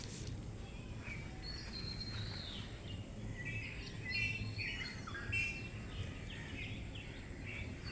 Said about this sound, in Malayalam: നല്ല കിളികളുടെ എന്താ പ്രകൃതിയും കിളിക്കൊഞ്ചലും ഒക്കെ ഉണ്ട് കേട്ടോ